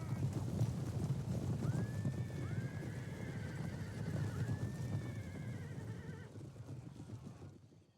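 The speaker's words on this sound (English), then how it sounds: "here comes the main horse archer force with some infantry reserve" Horses in a historical battle video game gallop in a dense, continuous drumming of hooves as a mounted horse archer force advances, with a few high neighs rising over the steady rumble.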